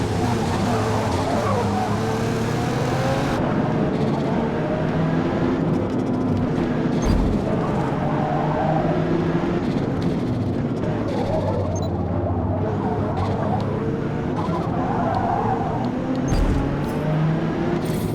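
Car engines drone and rev continuously in Forza Motorsport, with tires skidding now and then as cars bump each other, a steady racing-game soundscape with no talking.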